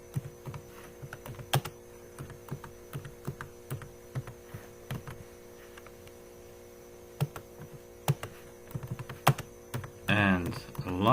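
Irregular keystrokes tapped on a computer keyboard close by, sparse and uneven over a steady electrical hum, with a voice starting near the end.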